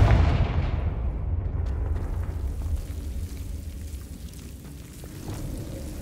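A fiery Confringo spell explodes in Hogwarts Legacy with a loud, booming burst that trails into a long rumbling roar, slowly fading over several seconds with no voices.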